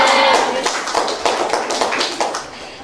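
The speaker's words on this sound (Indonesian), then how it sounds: "Tepuk tangan untuk kelompok 2." A classroom of students applauding a group during a maths lesson, with a quick run of distinct, fairly close hand claps that grow irregular and fade over about three seconds.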